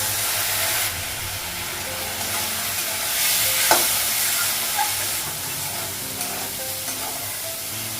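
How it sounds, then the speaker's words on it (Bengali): Spice paste sizzles and fries steadily in a pan, a continuous close hiss with faint stirring scrapes and one brief brighter clink midway, no voices. "মশলাটা ভালো করে ভাজা হয়ে গেছে"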